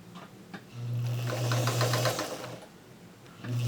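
A sewing machine runs in one short burst, stitching strips onto a log cabin quilt block with a quick even whir, close and fairly loud before stopping.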